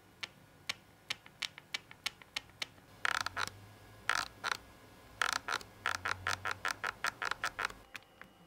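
Plastic casing of a GPD Micro PC 2 creaking as it is pressed, giving a run of sharp, close clicks and creaks in uneven bursts with no one talking.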